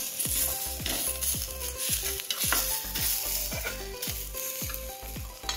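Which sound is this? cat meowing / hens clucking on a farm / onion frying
onion frying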